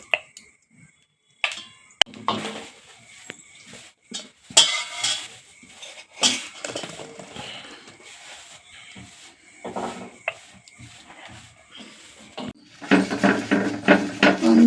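Ground green gram batter scraped from a mixer jar into a metal vessel: scattered clinks and taps of a spoon against steel with soft scraping and pauses, ending in a louder run of clattering.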